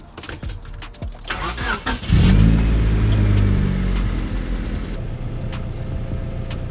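A car engine fitted with an FMU cranks for a moment and catches, then surges into a loud rev before settling into a steady rough idle, heard up close.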